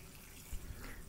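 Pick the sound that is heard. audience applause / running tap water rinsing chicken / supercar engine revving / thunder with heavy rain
running tap water rinsing chicken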